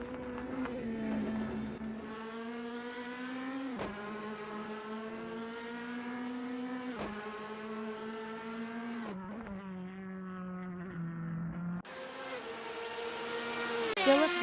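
Race car engines roar in a DTM sim racing game, a steady high-pitched whine that rises and drops sharply at each gear shift, continuous and without speech.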